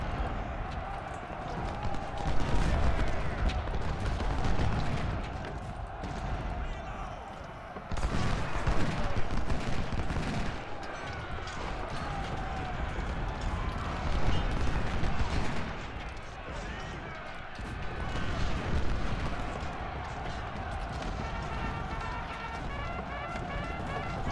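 Artillery fire in the Ultimate General: Civil War game, Antietam battle, sounds as repeated booms and cannon volleys in waves over a continuous battle din, with someone talking throughout.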